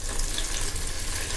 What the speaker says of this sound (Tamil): மிக்ஸி ஜார் அலசி அந்த தண்ணி ஊற்றிக்கோங்க